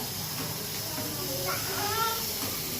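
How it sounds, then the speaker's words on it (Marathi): Cut potatoes for french fries sizzle in hot oil with a steady, close hiss that runs the whole time, while a voice and faint background sounds carry on over it. "इथे मी कट करून घेतलेत बटाटे आणि इकडे तळती आता"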